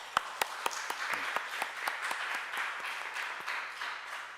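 A church congregation in Korea claps together during a Sunday service, a steady, moderately loud patter of many hands with a few sharper nearby claps standing out.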